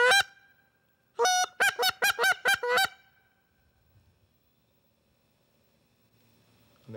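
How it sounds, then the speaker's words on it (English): A goose call used for turkey hunting in Michigan gives one loud honk, then a rapid string of six honks. Near and loud, the honks are followed by near silence. "Now the goose call here, now that's a natural sound to Michigan."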